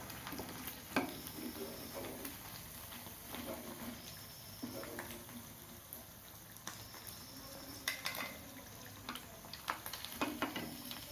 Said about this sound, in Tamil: இதுபோல் எல்லாத்தையும் துவைச்சி போட்டு வறுத்து எடுத்துக்கலாம். பன்னீர் 65 பொரித்து எடுத்தாச்சு